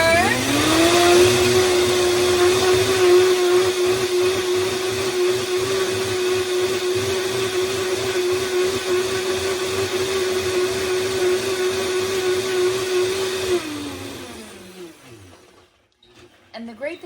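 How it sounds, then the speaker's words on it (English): Blender whirring at high power as it grinds walnuts into a creamy base for chocolate pudding, a loud continuous steady whine for about fourteen seconds before spinning down to a stop. "we're going to go ahead and first blend those and make that into something that's a little bit creamy"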